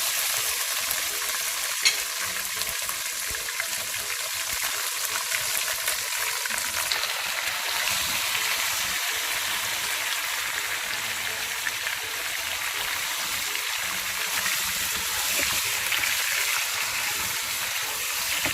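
Beef pieces frying with spices in a pot give a loud, steady, close sizzle that holds evenly throughout, with faint stirring underneath and no voices.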